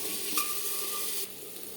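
Onions frying in a pan with salt added, a steady close broadband sizzle with a brief stirring clink near the start.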